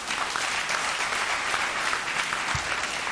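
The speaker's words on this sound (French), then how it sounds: "Sous vos applaudissements, bien sûr." An audience at a public lecture applauds in a steady, dense wash of clapping that holds evenly throughout, with no voices over it.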